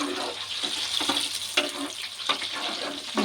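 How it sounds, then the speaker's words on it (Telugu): Onions and egg frying in a pan for green egg khichdi, a steady close sizzle with occasional stirring scrapes and clinks running throughout, no talking. "ఉల్లిపాయలు అలా వేగుతున్నాయి కదండి"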